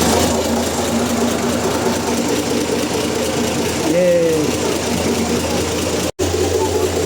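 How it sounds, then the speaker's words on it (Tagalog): A steady, loud motor drone runs throughout, a boat engine chugging continuously with a brief pitch sweep midway and a momentary cutout near the end; a voice briefly speaks. "ingay ng makina"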